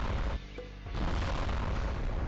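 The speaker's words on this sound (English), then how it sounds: "that is like an actual sound of an explosion" A loud, sustained explosion from the visual novel Higurashi: When They Cry, a broad booming roar with a short dip partway through before the rumble swells again and continues, with no voices.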